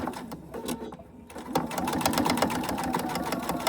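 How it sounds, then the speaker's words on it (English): A sewing machine top stitching a small wallet, running in a steady fast rhythmic clatter of needle strokes that pauses briefly near the start before resuming at full, even speed. "And I'm just top stitching."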